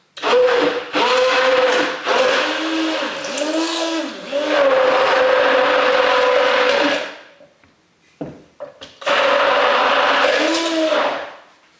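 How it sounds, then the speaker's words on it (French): A blender whirs loudly, mixing homemade liniment with lime water in long bursts, pausing briefly with a few knocks before starting again, its motor pitch wavering as the liquid churns. "Le mixeur au fond."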